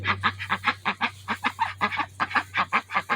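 Young pet ducks, a male and a female, quack in a rapid, steady run of short calls, close by and clearly audible with no talking.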